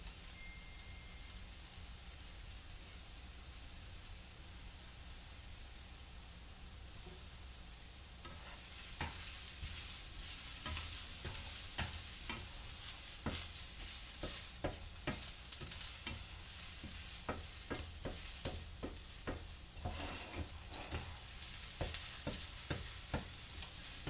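Spinach and onions sauté in a hot pan with a soft, steady sizzle. After a few seconds a spoon starts stirring, adding repeated scraping clicks over the frying.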